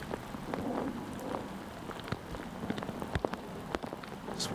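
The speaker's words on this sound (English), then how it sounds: "one of the heavier rain portions of the round" Heavy rain pours down during a disc golf round at a Georgia state championship, a dense steady hiss of drops with sharper close impacts spattering irregularly on nearby surfaces.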